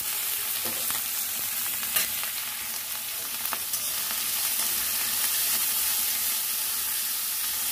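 Chopped capsicum and carrot fry with cumin and dry fruits in a pan, a continuous close sizzle with occasional light stirring clicks and scrapes throughout.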